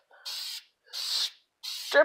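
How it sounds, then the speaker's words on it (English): An airbrush or spray gun gives short test bursts of paint onto a fish lure cup, three hissing sprays of about half a second each with pauses between, close and moderately loud. "I just do a little test spray"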